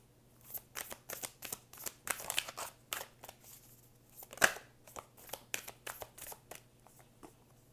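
Tarot cards are shuffled by hand in quick riffling bursts with soft papery slaps and crinkles, close and quiet, repeating irregularly with brief pauses.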